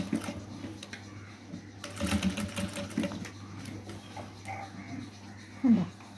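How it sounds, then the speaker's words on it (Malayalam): A sewing machine stitching a fabric flower meant for a hair bow or dress runs with a steady mechanical whir and rattle up close, and a voice is faintly heard over it. "അതിൻ്റെ മേലെ കൂടെ ഒന്ന് സ്റ്റിച്ച് ചെയ്ത് കൊടുക്കണം കേട്ടോ."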